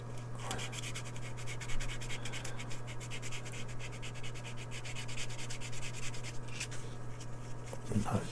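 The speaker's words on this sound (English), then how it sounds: "Let's get the slightly wrecked sander out." Steady, rapid back-and-forth scratchy rubbing of a worn sander on a small hard plastic model part, close up and continuous, with a low electrical hum underneath.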